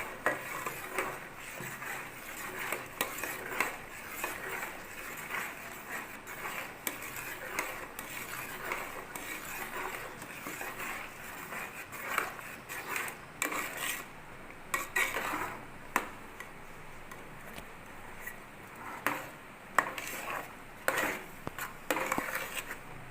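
A thickening lalmohan sweet mixture of semolina being stirred in a pan gives faint, irregular scraping and soft clicks of a spoon against the pan, quiet and close throughout.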